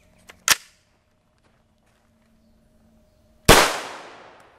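Two sharp gunshots from a CZ Scorpion firing 9mm full metal jacket rounds from a 7.72-inch barrel during a velocity test. A quieter report comes first, then a much louder blast about three seconds later with a lingering echoing decay.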